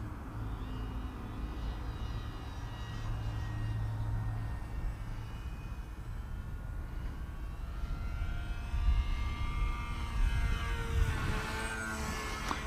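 A Smeg Head RC model plane fitted with a 3003S motor and a rear-mounted camera makes a smooth low pass, its steady engine drone rising as it nears, with no talk.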